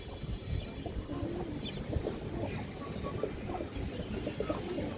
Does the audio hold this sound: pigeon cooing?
yes